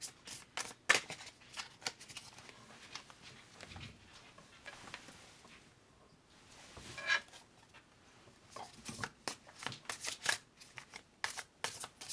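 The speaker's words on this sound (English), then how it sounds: "I am going to shuffle these cards." Cards being shuffled again and again, crisp riffling bursts with short pauses between them, close by and with no talking.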